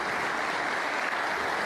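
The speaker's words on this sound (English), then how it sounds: "you can hear the applause there" Steady applause from a snooker match audience, a dense unbroken clatter of clapping filling the whole moment with no voices over it.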